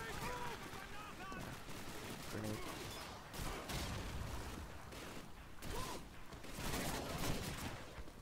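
Machine gun fire in Call of Duty 2 during a city hall battle, heard as dense bursts of gunshots and rattling fusillades mixed with clanking mechanical noises, fairly constant throughout at moderate loudness.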